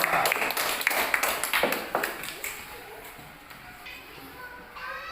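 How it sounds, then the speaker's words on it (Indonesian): A classroom group claps for a student group after their presentation: a brief burst of scattered hand claps that thins out and fades within a few seconds. "tepuk tangan buat kelompok 2"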